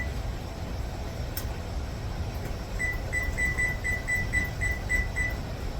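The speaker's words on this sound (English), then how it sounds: "Let's set the timer." A kitchen oven timer being set while baking Valentine treats at 350 degrees gives a short run of about a dozen quick, evenly spaced high beeps over low room noise, with one sharp click before them.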